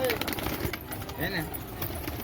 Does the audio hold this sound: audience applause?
no